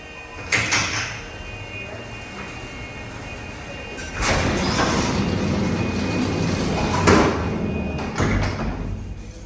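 Courion doors on a vintage Otis black-button traction freight elevator sliding shut, with a heavy thump near the start, a long rumbling slide through the middle and further clunks toward the end, close by and fairly loud.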